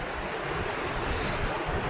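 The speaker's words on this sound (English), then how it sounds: "You can see it there in the water with the sea coming around it." Sea waves surging around a large boulder on the shore at Elgol, a steady close wash of surf with wind noise across the microphone and no voices.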